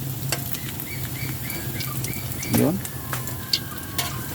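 Banana blossom fritters (okoy) frying in hot oil, a steady close sizzle and crackle running throughout, with someone talking over it and one brief louder bubbling splash.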